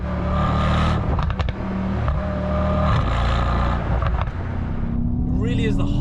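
A Mercedes-AMG E63 with its V8 engine, the last V8 generation, revs loudly and continuously up close, the engine note rising and falling steadily, with a person talking over it.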